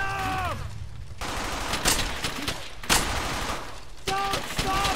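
Gunfire rattles through a battle in the video game Brothers in Arms: Hell's Highway, with repeated bursts and single shots over a constant din, while soldiers shout orders.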